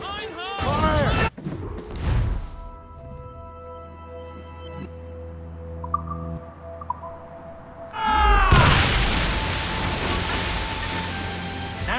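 Ship cannons fire in the Assassin's Creed Rogue video game, with heavy booming blasts and a roaring rush of noise at the start, then a long loud barrage near the end, over game music and shouting voices.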